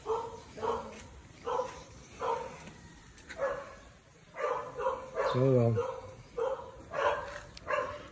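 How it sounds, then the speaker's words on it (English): A neighbor's dog barks repeatedly in a steady rhythm of sharp barks somewhat distant outdoors, with one whining yelp, while someone speaks briefly over it. "I can't talk over the neighbor's dog."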